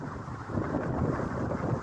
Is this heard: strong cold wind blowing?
yes